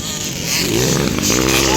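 Enduro motorcycle engine racing in a local heat in Kinoguitan, Misamis, roaring loud and close with rising revs, under excited crowd voices and shouting.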